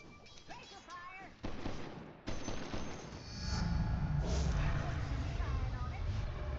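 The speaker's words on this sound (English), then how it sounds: "Laser fire." Video game laser fire crackles in bursts of sharp, rapid shots mixed with explosive rumble, building into a dense continuous barrage; a player talks over the action.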